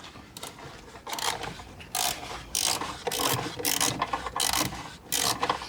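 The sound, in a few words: ratchet tightening bolts on Tesla Model 3 tail light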